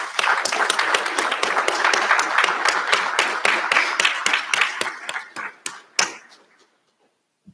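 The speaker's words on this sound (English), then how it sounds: "Please join me in applauding them once more." A crowd at a college graduation recognition ceremony applauds in a dense burst of clapping that thins out into a few scattered, sharper claps before stopping, leaving near silence at the end.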